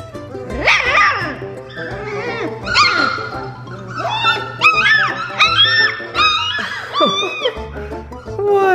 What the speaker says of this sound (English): You finding your bark and your howl?